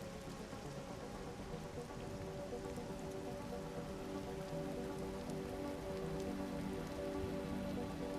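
Steady rain falling in a city, a dense, even hiss of drops on surfaces with a faint tonal hum underneath, continuous and unbroken with no voices.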